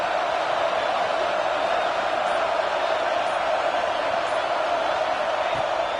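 Stadium crowd at an Oregon at Nebraska college football game, a steady dense roar of cheering and noise filling the whole stretch without letup.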